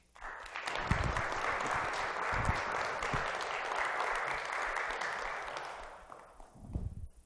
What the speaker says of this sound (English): Join me with a round of applause